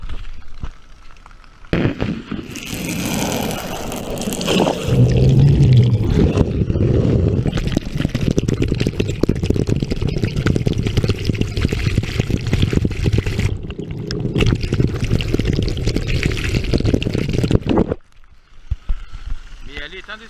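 Water sprays and splashes hard over a waterproof-cased GoPro riding a roller coaster at Parc Asterix during a storm, a loud continuous wet rush with bursts, a voice talking over parts of it.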